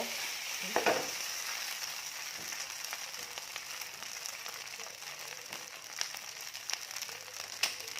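Garlic frying in a pan for vegetarian Shanghai noodles with mock pork, a steady loud sizzle and crackle throughout with a few sharper pops, no talking.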